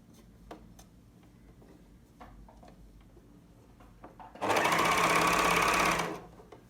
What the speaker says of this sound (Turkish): buraya geçiş yaparken onu düz şekilde dikiyorum.